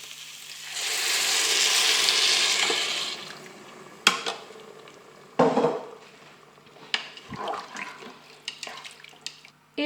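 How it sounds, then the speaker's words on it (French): Water and veal stock pour into a Cookeo multicooker pot with salt, a steady splashing hiss lasting a couple of seconds. Sharp clatters, knocks and a few softer handling sounds follow. "Je verse l'eau avec le fond de veau."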